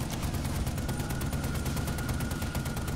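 Sustained machine gun fire in the zombie shooter Zombie Army Trilogy, a dense, loud rattle of rapid shots running steadily throughout with no break.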